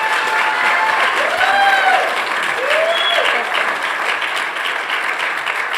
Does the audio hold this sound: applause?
yes